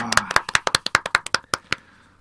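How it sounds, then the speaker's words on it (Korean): A small studio group claps at the start of a regional election talk show, about fifteen sharp separate claps in a quick uneven rhythm, close and clear, then fading into room echo with no speech. "박수!"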